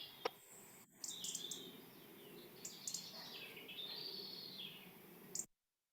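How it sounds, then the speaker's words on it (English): Birds of a dawn chorus sing and chirp at a distance, with high tweets and trilling calls layered over a soft outdoor hiss before the sound cuts to silence near the end. "we get you to enjoy the birds that are in the background there"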